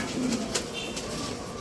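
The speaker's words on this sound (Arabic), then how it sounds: "12 جوز حمام." French meat pigeons coo softly in a loft, a low, nearby murmuring call, with faint flutters and rustling.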